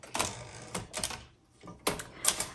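Typing on a 1964 Olivetti-Underwood Lettera 32 manual typewriter, close and fairly quiet: short bursts of crisp key strikes in irregular clusters separated by brief pauses, with no talking.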